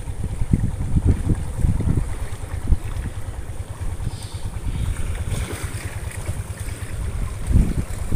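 A river ferry boat carrying people and vehicles across a river rumbles steadily, with low engine throb, water wash and wind buffeting the microphone throughout, no voices.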